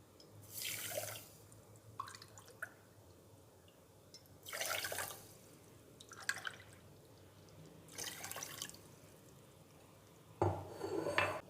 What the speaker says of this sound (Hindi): अब मैं 3 कप पानी डालने लगी हूँ।